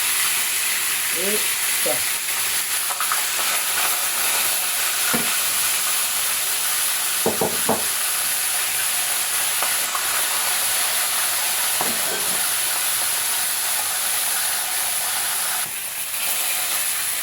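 Pieces of salted cod frying in hot oil on a stove, a steady sizzle and hiss running throughout with occasional stirring clatter, while a person speaks briefly over it.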